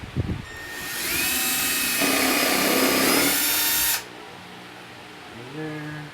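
A power drill drives number 8 by 1.25 inch Power Pro wood screws on a miter saw jig, whirring loud and steady for about three seconds, rising in pitch under load, then stopping abruptly.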